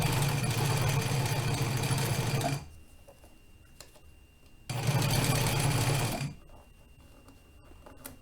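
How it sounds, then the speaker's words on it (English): A sewing machine stitches an invisible zipper close to its teeth in two loud, steady runs, each about two seconds long, with quiet pauses between them. "I'm going to sew all the way close to the teeth."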